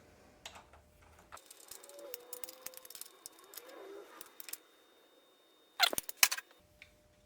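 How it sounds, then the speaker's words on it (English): Ratchet and 5/16 socket tightening a bolt to 72 inch-pounds during final assembly of a rebuilt Mopar A727 automatic transmission, giving soft, scattered clicks on a quiet bench, then a louder burst of sharp clicks near the end. "We're going to torque it to 72 inch-pounds."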